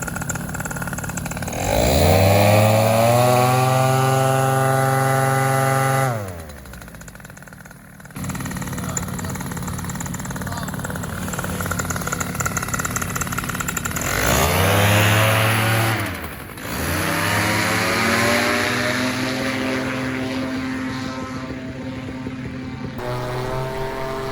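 A small paramotor engine revs up sharply, holds a buzzing drone, drops briefly, then revs up again, loud and close without speech.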